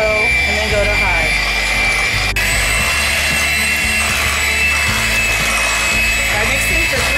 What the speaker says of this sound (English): And now we just mix with our mixer for 3 minutes.